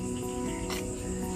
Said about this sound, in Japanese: だから虫の声。